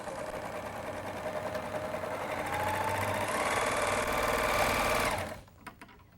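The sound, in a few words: Viking Huskylock 1002LCD serger sewing stitches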